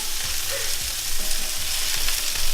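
Burger patties sizzle on a hot griddle with a loud, continuous frying hiss, interrupted by a few soft thumps and scrapes as they are flipped, close up and without talk.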